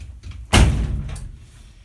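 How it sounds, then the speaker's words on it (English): The back door of a 1955 Spartan trailer home bangs shut with one solid, close thud, followed by a short rattling decay and some quieter handling noise. "Here we're going to go in the back door here."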